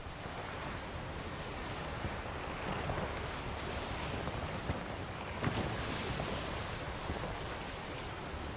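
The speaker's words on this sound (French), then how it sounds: "Azur sur son bateau, le Azur premier. Il s'approche" A boat sails at sea in The Witcher 3, with a constant, fairly faint wash of waves and wind rushing steadily throughout.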